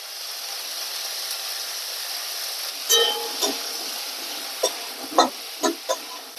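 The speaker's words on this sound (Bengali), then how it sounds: "ফুলকপি গুলোকে একটু ভাজা হচ্ছে, কষিয়ে নিচ্ছি," Cauliflower fries in a pan at home, a soft steady sizzle broken by a few sharp scraping stirs of the spatula toward the end, with no talk.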